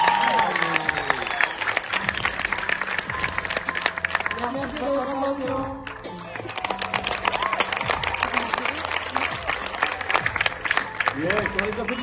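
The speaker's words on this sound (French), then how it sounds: "on les applaudit bien fort, s'il vous plaît" School audience at a slam poetry event applauding a performance, loud dense clapping and cheering that dips briefly in the middle, with a presenter's voice speaking over it.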